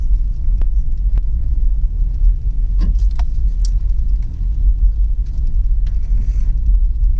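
A vehicle creeps slowly along a steep mountain road near Bear Mountain, giving off a steady, close, low rumble throughout, with a few faint clicks and knocks above it and no talking.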